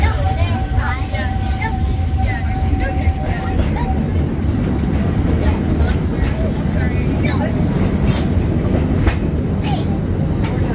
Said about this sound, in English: who've been riding with me for a spell already know how much I love riding this train